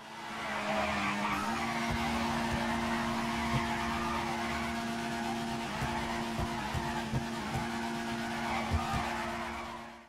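A car drifting in GTA 5 keeps up a sustained tire squeal over a steady engine drone, with a change in engine pitch early on and scattered small knocks throughout.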